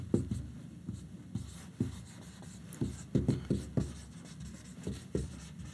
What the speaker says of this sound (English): I'll write this word down.